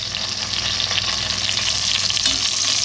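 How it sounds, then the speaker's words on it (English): Chuck roast sears in a hot pan for a Southern-style smothered pot roast, giving a steady, loud, close sizzle and crackle of frying fat that runs continuously without a break. "she's a sizzling away"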